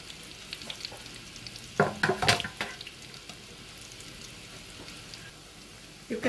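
Chebakia pastries fry in hot oil, giving a quiet, steady sizzle broken by a few sharper crackles and pops partway through, with no talking.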